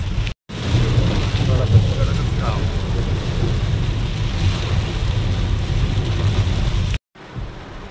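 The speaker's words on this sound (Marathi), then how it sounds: "जेवढा पाऊस पडतोय पाण्याने फुल वैरून चाललेत रस्ते मित्रांनो." Heavy rain pours onto a flooded road in Kalyan, a dense, steady hiss with low rumbling that runs almost unbroken, cutting out briefly near the start and again near the end.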